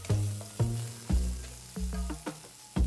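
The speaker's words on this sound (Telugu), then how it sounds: "తరిగిన ఒక టొమాటో వేసి వేయించాలి" Chopped tomato frying in oil with cumin, ginger and green chillies, a close gentle sizzle punctuated by about six sharp knocks and scrapes of a spoon stirring the pan at an uneven rhythm.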